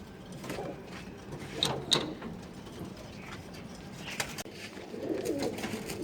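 Domestic pigeons in a home loft, a few soft low coos near the start and again toward the end, faint and close in a quiet room with occasional small knocks.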